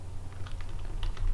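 Close, rapid typing on a computer keyboard at a desk, a short flurry of light clicks over a steady low electrical hum.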